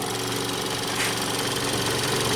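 A Ford Escape engine runs steadily with an even, slightly knocking hum, close and continuous, with no talking.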